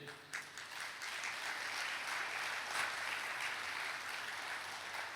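A church congregation claps together during a sermon, a dense, steady wash of hand claps that holds at an even, fairly loud level from start to finish with no voices over it.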